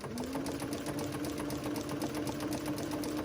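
A Consew 206RB industrial sewing machine fitted with a 4-to-1 pulley reduction runs steadily at speed, giving a close, even, rapid stitching chatter over a low motor hum, with no voices.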